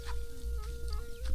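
Chickens cluck in a rural Thai village along a river, with a sustained nasal clucking call and short squawks close by over a low background rumble.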